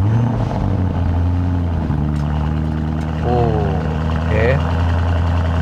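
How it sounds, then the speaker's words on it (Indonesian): The 4000 cc twin-turbo V8 of a used Lamborghini Urus hums low and muted at a steady idle close by, with brief higher chirps near the end and a voice speaking over it. "sekarang kita akan nyalakan mesin V8 4000 cc twin turbonya ini."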